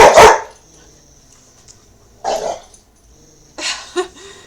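A big dog barks indoors: a loud close burst at the start, then two more separated bark bursts with quiet room tone between.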